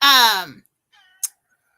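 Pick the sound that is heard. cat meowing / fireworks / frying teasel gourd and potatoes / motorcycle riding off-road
cat meowing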